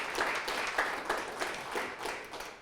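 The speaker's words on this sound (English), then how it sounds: "let's give Ann a round of applause for the honorable mention." Scattered applause from an audience at an art awards presentation, honoring an honorable mention; a moderate, steady patter of clapping that rises and falls slightly over a few seconds.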